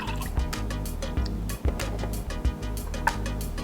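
Pineapple juice pours steadily into a dessert mix for homemade Dole Whip, a continuous close liquid rush with small splashy bursts and drips throughout.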